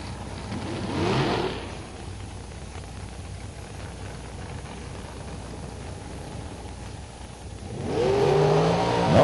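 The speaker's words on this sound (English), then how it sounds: "Oh, they go straight to burnouts this time." Bracket drag race cars at the Great American Bracket Race roaring into burnouts, loud engine revs rising at the start and again near the end with a steadier engine drone between them.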